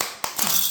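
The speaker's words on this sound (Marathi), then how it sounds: "टाळ्या वाजवा." A group of schoolchildren in a village classroom clapping their hands: a quick, dense burst of overlapping claps, close and fairly loud, lasting under a second.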